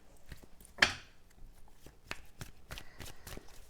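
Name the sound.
shuffling tarot cards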